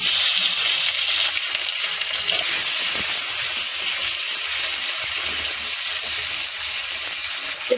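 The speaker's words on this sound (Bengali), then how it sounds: "তারপরে কিন্তু পেঁয়াজ লঙ্কা দিয়ে দেবো" Onion and chili sizzle in hot mustard oil in a pan, a loud, steady hiss of frying that continues without pause and has no voices over it.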